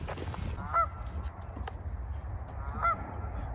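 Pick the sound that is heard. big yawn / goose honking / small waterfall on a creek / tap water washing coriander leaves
goose honking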